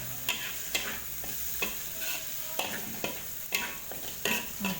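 Tomato sothi with kasturi lime juice being stirred in a pot, a spoon scraping in a steady rhythm of distinct strokes over a soft sizzling background, close and clear with no talking.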